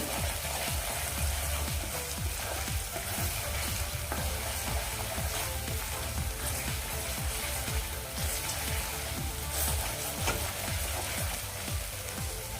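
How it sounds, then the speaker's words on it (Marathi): Koli-style bangda (mackerel) curry masala frying in hot oil, a loud continuous close sizzle with rhythmic scraping as the masala is stirred, with no talk. "तेल सुटलं आहे व्यवस्थित पुन्हा परतवून घेते"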